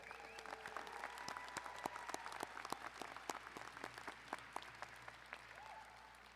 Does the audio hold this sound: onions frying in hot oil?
no